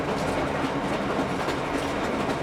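A steady, dense rumble of a passing train with a continuous clattering roar at constant loudness, brief and without any talking.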